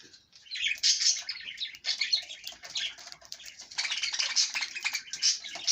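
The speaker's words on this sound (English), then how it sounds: "Birds eating their chop." Several small pet birds chirp and twitter busily up close while eating chopped bird salad, a rapid, overlapping chatter that swells and fades without pause.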